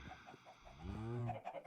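Minecraft chickens from the Sky Factory 3 modpack cluck in a short burst of pitched, slightly strained calls, moderately close and alone with no talk over them.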